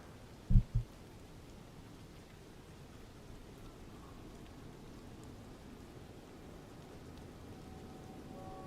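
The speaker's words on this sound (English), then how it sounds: "Is it really raining in here?" Steady, even rain hiss fills a flight simulator cockpit, a continuous soft wash with two brief low thumps near the start, no voices.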